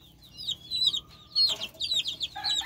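Hens and a breeding rooster in a Puerto Rican flock give bursts of clucks and short calls, several birds close by in a quick, irregular chatter without speech.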